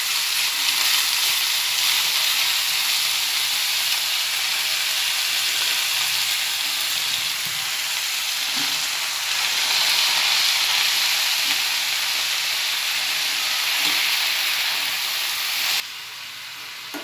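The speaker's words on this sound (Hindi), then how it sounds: "अब मैं इसमें मेथी की भाजी डालूँगी, कटी हुई, जिसे मैंने छन्नी में निकलने के लिए रखी थी।" Chopped fenugreek leaves hit onions frying in a pan, giving a loud, steady sizzle and hiss that holds throughout before dropping in level near the end.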